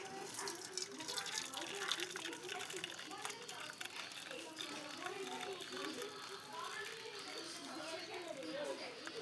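Freshly made tea is poured slowly, giving a soft trickling and splashing under steady nearby talk and background chatter.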